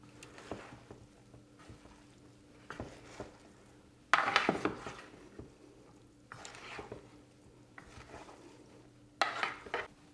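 Pasta salad of orzo, grilled shrimp, grilled vegetables and thin strips of fresh basil being mixed in a large bowl, giving soft, wet squishing and intermittent clinks of a utensil against the bowl, with several louder scraping bursts.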